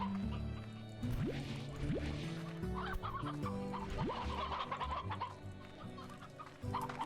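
Chickens clucking in the video game Slime Rancher, a busy chorus of overlapping clucks and squawks with a steady game soundtrack underneath and no talking.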